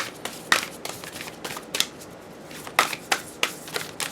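Tarot cards being shuffled and cut during a reading, a series of sharp riffling snaps and soft slaps at irregular intervals, close and fairly quiet, with no talking.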